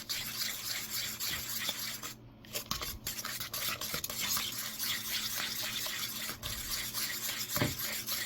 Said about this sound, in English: Next, I am going to add in 1 cup of brown sugar. Mix that in really well.